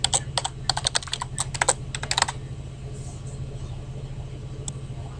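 Fingers type a new password on a computer keyboard, rapid irregular clicks in bursts for about two seconds, then a lone keystroke later, under a steady low electrical hum.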